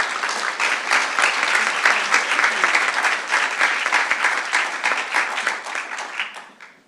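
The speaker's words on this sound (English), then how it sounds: "join me in a round of applause for Vicki" A large convocation audience at a regional university applauds for Vicki, dense steady clapping from many hands that holds loud for several seconds, then tapers off at the end.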